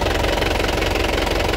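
An Isuzu Panther LS Turbo diesel from 2017 idles close by, a loud steady knocking rumble with an even rapid pulse and no voices.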